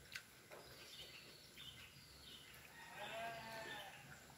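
Faint, distant bleating of a goat mixed with other farm animal and bird sounds outdoors, with a low background hum and no talking.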